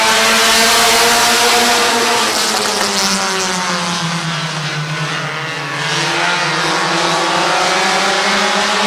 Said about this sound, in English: Eight-lap heat race number 1 for the Open Compacts is green.